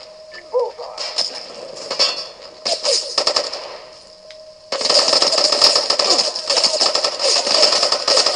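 Automatic gunfire in Socom Fireteam Bravo 3 on PSP: loud, rapid rattling bursts broken by short gaps, then a sustained barrage of close firing in the second half, with a brief voice callout near the start.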